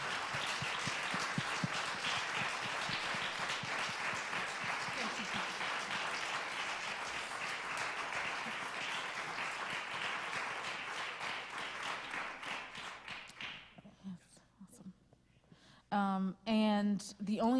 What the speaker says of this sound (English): I just want everyone to give a round of applause to our storytellers